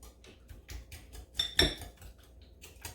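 A whisk beats pineapple coconut pancake batter in a bowl with quick, rhythmic ticking strokes and a single brighter clink against the side. The sound is close and fairly quiet.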